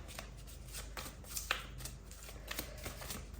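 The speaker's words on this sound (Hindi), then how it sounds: "थोड़ा सा शफल कर लेते हैं पहले अच्छे से" A deck of tarot-style reading cards being shuffled: soft, quiet riffling and papery flicks in a steady, uneven rhythm, close by with no talk.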